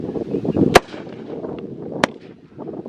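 Two loud, sharp firework bangs go off outdoors about a second apart in a 2023 home fireworks display. A low rumble and faint background chatter run between them.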